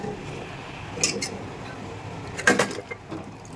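Tempering is tipped into a pot of Mumbai-style dal gosht, with two short metallic clanks of pot and utensil about a second apart, followed by faint rattling and scraping, with no talk.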